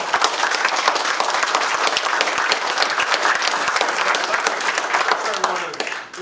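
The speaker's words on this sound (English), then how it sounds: "please give him a round of applause and thank him for coming to this" An audience at a community conversation with Governor Justice in Princeton claps in dense, sustained applause that fills the room and fades out at the end.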